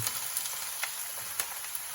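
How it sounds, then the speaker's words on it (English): Continuous bright sizzling of top sirloin and vegetables frying in a pan with red sauce mix, with a few sharper pops and crackles, no voices. "And you're gonna hear it sizzle."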